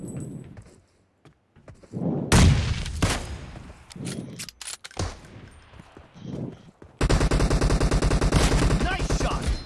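Gunfire fills a battle royale video game match, with scattered single shots and bursts before a sustained rapid automatic volley near the end, loud and close; players talk over it.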